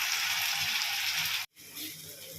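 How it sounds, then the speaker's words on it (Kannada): Chopped tomatoes go into chicken frying in a pan, giving a steady hissing sizzle that cuts out for a moment, then resumes slightly softer. "ಟೊಮ್ಯಾಟೊನ ಹಾಕ್ತಾ ಇದ್ದೀನಿ ಗೈಸ್"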